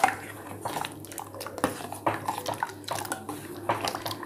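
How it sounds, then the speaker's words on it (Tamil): A spoon scrapes and clinks against a heavy pan while fruit custard with mango flavour is stirred, giving irregular close knocks and wet stirring sounds. "ஓகே, இது மாதிரி ஒரு 4-5 தடவை கிண்டி விட்டுக்கிட்டே இருங்க."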